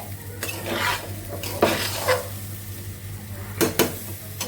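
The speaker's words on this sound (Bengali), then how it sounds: "এখন পোলার চালটা ভেজে নিচ্ছি ভালো করে" Rice for pulao frying and being stirred in a pot, a steady close sizzle broken by scraping stirs and a few metallic clinks of the spoon against the pan.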